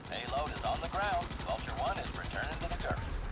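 Gunfire in the video game Starship Troopers: Extermination, a steady rapid patter of shots running under a game soundtrack and effects, with a person talking over it.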